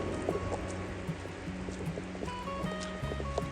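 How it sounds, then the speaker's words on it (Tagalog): Heavy rain falling near Takakaw Falls in Alberta, Canada, a dense steady hiss mixed with rushing water, continuous and close, with faint patter and no clear voices. "Lakas ng ulan."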